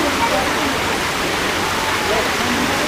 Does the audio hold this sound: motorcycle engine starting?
no